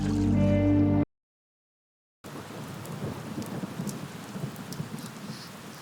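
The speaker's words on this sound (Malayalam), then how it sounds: "ഞാൻ പറഞ്ഞില്ലേ മഴ പെയ്യുന്ന" After a moment of music and a brief silence, steady rain pours down with a dense patter and a low rumble of thunder underneath, continuous and moderately loud.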